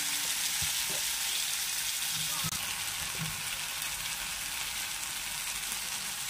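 A paste of ground mustard, chili and cashew fries in a pan with okra, a steady loud sizzling hiss accompanied by a few faint low knocks and stirring sounds.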